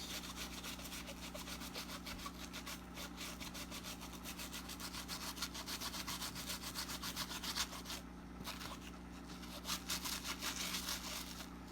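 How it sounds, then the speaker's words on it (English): A bristle brush scrubbed back and forth across a Nike Air Max 95 sneaker during cleaning, a continuous close, raspy rubbing texture with a rapid rhythmic stroke pattern over a low steady hum. "We're gonna go back and forth. Make sure we get in those crevices."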